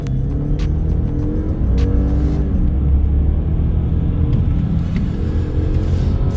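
Toyota Crown RS (S220) accelerating hard with the foot down, a steady deep engine and road rumble that swells continuously from inside the cabin with no talk.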